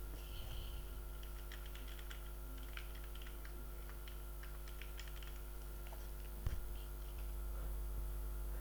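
Soft, quick clicking of computer keyboard keys while a line of header text is typed in Notepad, faint and fairly continuous over a steady electrical hum, with no voices.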